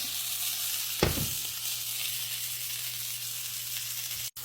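Filet mignon sears in butter in a hot pan, giving a constant close sizzle with one brief louder burst near the start and no speech.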